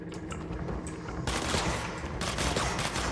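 Video game gunfire sounds as sustained rapid automatic shooting, loud and close, with denser volleys kicking in partway through and again near the end, with no talking.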